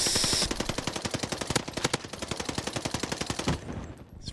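A Marco 5 fires in Warzone on Fortune's Keep in a long, steady automatic stream of sharp, evenly spaced shots that ends abruptly, followed by a short quiet tail.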